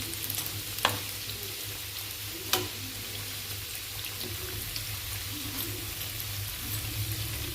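Fenugreek leaf pakodas fry in hot oil with a steady, close sizzle and bubbling. Two sharp clinks from a utensil interrupt it, and nobody speaks.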